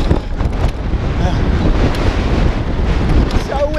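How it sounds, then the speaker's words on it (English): Strong wind roars and buffets the microphone steadily on a rocky Aruba coastal mountain-bike trail by the ocean, loud and continuous, with faint voices under it. "So windy."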